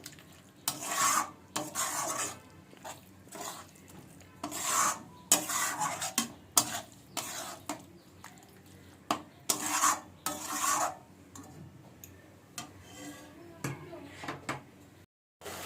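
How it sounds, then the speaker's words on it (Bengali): Vegetables being stirred and sautéed in a pan produce quiet, intermittent bursts of scraping and rubbing from a spatula, separated by short pauses. "সবজিটা দিয়ে ভালো করে কষাতে হবে"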